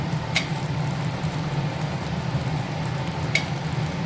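Cumin, curry leaves and tamarind frying in a pan give a continuous close sizzle over a low steady hum, with a couple of brief sharp crackles.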